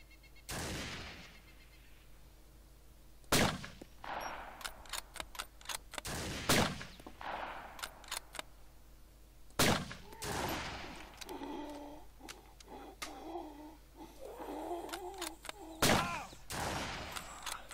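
DayZ gunfire on the Napf map crackles in sharp, loud single shots and short bursts scattered across the stretch, with muffled movement and faint game ambience between them.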